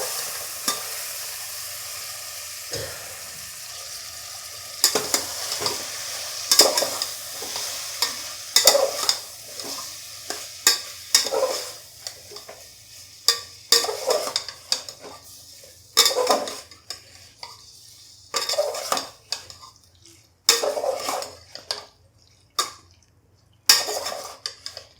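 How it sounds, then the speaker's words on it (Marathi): A spoon repeatedly stirs and scrapes a vegetable biryani mixture in a pan, with irregular clinks and scrapes over a soft sizzle that grow louder and more frequent toward the end; no one speaks. "याला चांगलं एकजीव करून घेऊया।"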